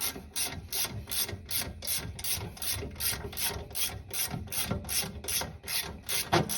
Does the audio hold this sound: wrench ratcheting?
yes